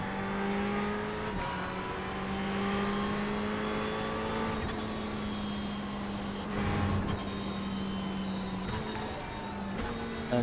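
A race car in the iRacing sim drives slowly and alone on the track, its engine giving a steady droning hum with small shifts in pitch that carry on without a break.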